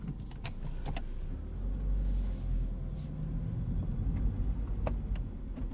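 A 2022 Subaru WRX heard from inside while driving on the road, a low steady rumble of engine and road noise with a few light clicks and rattles, no talking.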